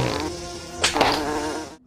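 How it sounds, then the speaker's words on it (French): A housefly buzzes in a steady, close drone that runs nearly two seconds as a sound effect, swelling briefly midway before cutting off abruptly. "Et il s'est transformé en mouche à merde."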